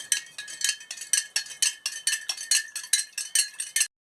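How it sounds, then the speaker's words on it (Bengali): A utensil stirs salt in a container while mangoes are prepared for preserving, making a close, steady run of bright, rhythmic clinks and scrapes, about four per second, with no voices. "ওই দিয়ে আমি নাড়িয়ে নিচ্ছি নুনগুলোকে।"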